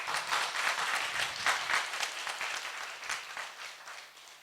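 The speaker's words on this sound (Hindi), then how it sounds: "एक बार इनके लिए थोड़ी जोर से ताली बजा देना।" An audience at a Malvi folk song workshop claps loudly for a group of children, the dense applause swelling early and then thinning out toward the end.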